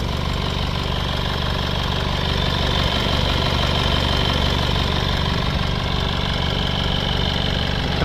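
A Honda CR-V engine idles steadily after a restart, close and loud, with a constant rumbling drone and faint knocking. No voices come through, and the sound does not change throughout.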